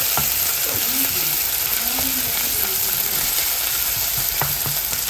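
Onions sauté in a pan with a steady close sizzle and the scrape and clatter of a utensil stirring them, heard alone without speech.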